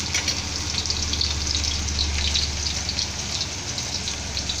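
Minced pork and garlic stir-fry in a hot pan with a loud, dense, continuous crackling sizzle that holds steady up close, with no voices.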